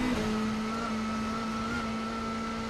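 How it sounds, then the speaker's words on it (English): A WTCC touring car engine drones steadily at high revs during a 2017 race in Germany, its note dropping slightly as the car climbs a long uphill gradient, loud and continuous with no talk. "You can hear the engine note change, just lowers a bit slightly because the gradient"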